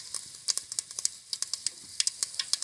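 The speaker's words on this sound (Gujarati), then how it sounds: "આપણે આમાં લીમડો નાખ્યો છે, આ ધાણા જીરું રાઈ આ બધો મસાલો નાખી અને વઘાર બનાવવાનો છે" Curry leaves, coriander, cumin and mustard seeds temper in hot oil, giving quiet, irregular crackling pops and spits over a faint sizzle.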